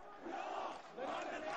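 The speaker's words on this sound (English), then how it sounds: "Thousands of demonstrators on the streets of Syria, these protests in a Damascus suburb" A crowd of demonstrators at a protest in a Damascus suburb, Syria, forms a dense, distant roar of many voices with a brief dip partway through before the chanting swells again.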